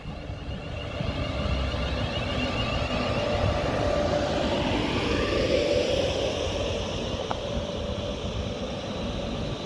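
A train draws into Bletchley station on the West Coast Main Line, its steady low rumble and rolling wheel noise holding at a constant, fairly loud level through the scene, with faint squeals rising briefly midway.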